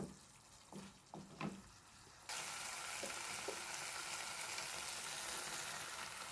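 Fish curry paste with sesame seeds frying in oil in a home kitchen. A few soft clinks come first, then a steady loud sizzle holds to the end.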